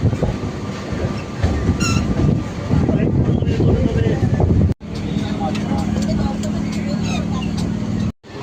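A train rumbles steadily along after departing, heading to Tala station in Kolkata, with broadband rattling and wind noise, briefly cutting out partway, with faint voices in the background.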